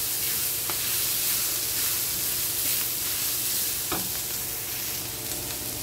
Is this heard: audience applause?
no